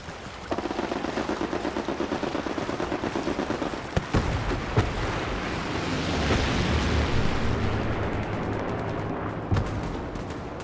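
Rapid machine-gun fire aimed at a tank in the video game Hell Let Loose, a fast regular burst for several seconds giving way to a rumbling, roaring blast and heavy background noise.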